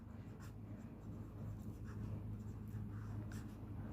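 Handwriting on a board or paper during a physics lesson, soft, close scratchy strokes in short bursts over a low steady background hum.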